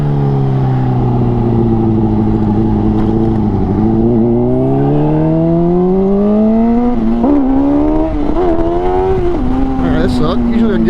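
A Honda CBR600RR motorcycle engine revs loudly and up close, its pitch dipping and then climbing through repeated throttle pulls as the rider accelerates for a wheelie, with wind noise throughout.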